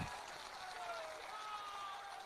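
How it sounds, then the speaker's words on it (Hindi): Crowd clapping at a Jan Suraaj foundation-day rally in Bihar, a steady wash of applause with crowd noise throughout, a faint whistle-like tone drifting over it. "जोर से बजाइए ताली"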